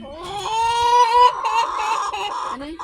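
A chicken clucks and crows close by, a drawn-out strained call followed by shorter squawks, loud and alone with no talking.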